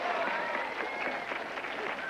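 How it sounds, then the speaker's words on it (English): An audience claps and cheers steadily throughout, a dense wash of applause with a few whistles mixed in. "Give him a clap."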